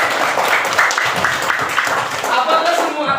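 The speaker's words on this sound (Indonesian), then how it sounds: "Tepuk tangan buat Tukang Lombok." An audience claps in a room, a dense burst of applause from a group, with voices mixed in.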